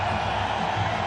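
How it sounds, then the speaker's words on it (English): A packed stadium crowd at an India vs Pakistan cricket match roars in a steady, dense wall of cheering that holds at full strength throughout. "The crowd erupt."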